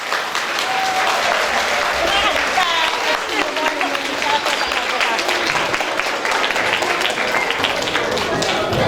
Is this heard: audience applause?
yes